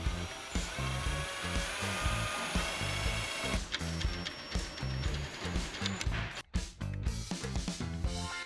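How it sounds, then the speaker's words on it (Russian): A power drill whirs in repeated short bursts, drilling holes in facade panels for shutter mounts, with a rhythmic buzzing, close by, with a brief pause near the end. "Размечаем и высверливаем отверстия в панелях для крепления ставен"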